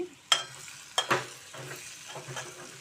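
Broad beans cooking in a pan are stirred with a spoon: a few sharp clinks and scrapes against the pan over a faint steady sizzle, close and quiet.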